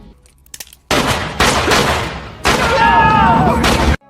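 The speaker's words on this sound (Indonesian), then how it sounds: "Dengan pistol di tangannya, Percy menembak mati Wild Bill tanpa ragu." Gunshots from a pistol in a film scene set in a prison, several sharp loud blasts in quick succession with ringing decay, under a narrator's voice.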